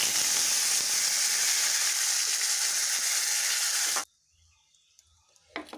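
Loud, steady sizzling of curry leaves frying in hot oil for about four seconds, then it abruptly drops to near silence with a faint clatter.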